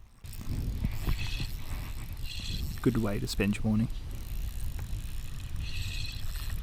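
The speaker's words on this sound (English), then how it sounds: "You can hear that scraping noise from the line roller on my reel." A faint scraping, grinding rattle from the line roller of a spinning fishing reel runs steadily under outdoor background noise on the flats, with a brief bit of talk in the middle.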